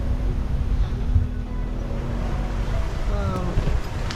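Waves slapping against the bow of a sailboat in rough conditions, a steady churning wash with wind buffeting the microphone and occasional louder splashes throughout.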